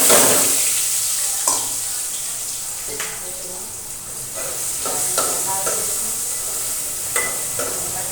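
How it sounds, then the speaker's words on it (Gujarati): Tomatoes and curry leaves frying in hot oil while being stirred, a steady close sizzle with repeated scraping strokes of a spoon against the pan; a voice may be faintly present. "ટમાટર નાખીશું. હવે આપણે નાખીશું મીઠો લીમડો,"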